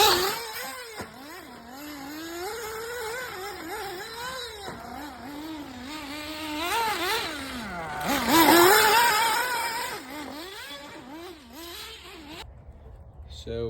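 Tekno nitro RC short course truck buzzing around a messy dirt track, its high-pitched engine whining and rising and falling repeatedly as it accelerates and backs off, loud and continuous before cutting out near the end.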